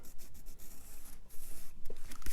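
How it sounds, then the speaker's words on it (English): A pen or pencil drawing a line across a paper envelope while making a junk-envelope journal, heard as soft scratchy rubbing strokes that come in short bursts, close and fairly quiet. "drawn a line that I can follow"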